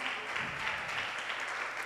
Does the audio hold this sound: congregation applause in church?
yes